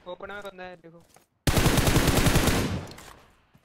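Rapid automatic gunfire erupts in PUBG Mobile, a loud, close burst lasting about a second after someone speaks briefly, then tapering off.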